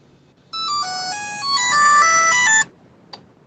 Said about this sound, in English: I just got a notification.